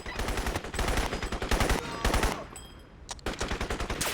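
Rapid automatic gunfire from the video game Crysis, loud and close, with sustained bursts of machine-gun fire broken by a short lull before the shooting resumes.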